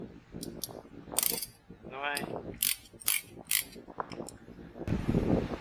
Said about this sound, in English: This is this caliper or piston spreader tool